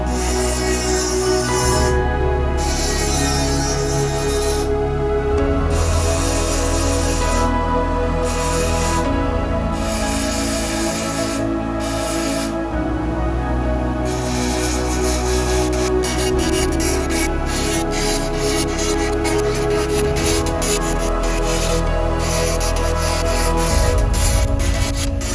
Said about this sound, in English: I'm just going to hit these spots with the Dremel real quick and get it prepped